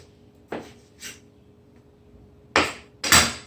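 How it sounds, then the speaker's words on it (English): A knife cuts kohlrabi into strips on a board. Four separate chopping thuds stand out against quiet, two softer ones early and two sharper, louder ones close together near the end. "Cutting it into strips, not being too picky about their shape or size."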